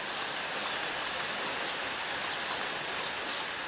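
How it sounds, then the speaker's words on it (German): Steady rain falling and pattering on surfaces, a dense even hiss that continues unbroken throughout. "es regnet schon wieder"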